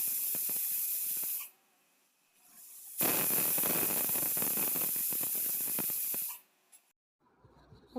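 A kitchen pressure cooker releases its built-up steam in loud, steady hissing bursts, one short blast and then a longer sustained rush that cuts off abruptly, followed by quieter spluttering. No one speaks.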